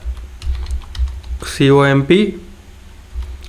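Soft, scattered clicks from a computer keyboard as a MongoDB database command is typed, with a short voiced sound in the middle and a quiet room tone underneath.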